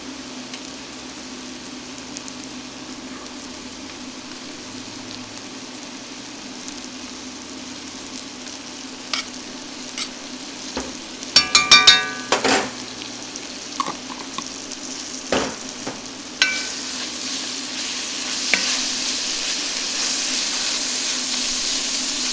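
Meat frying in beef tallow for a smoked BBQ bolognese, a continuous sizzle close by, broken midway by several sharp clatters and scrapes of a utensil before the hiss grows louder toward the end.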